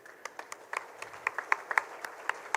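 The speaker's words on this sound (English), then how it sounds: "I want the last row to clap for this." A small audience at a college initiation day claps in scattered, uneven bursts from the back row, with individual hand claps standing out distinctly across a few seconds, moderately near and fairly light.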